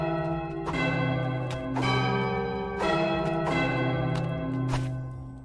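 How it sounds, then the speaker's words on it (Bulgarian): Church bells toll in a video game, several resonant strikes spaced about a second apart with long ringing tails that overlap, loud and near, with no speech. "Камбаните."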